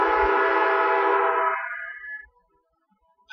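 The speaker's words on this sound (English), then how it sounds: "I hear another train coming, so I'm going to go ahead and wrap this up because it sounds like a loud one." Train horn sounding close to tracks beside a home, a loud sustained multi-tone blast that fades out after about two seconds, leaving near silence with a faint rumble.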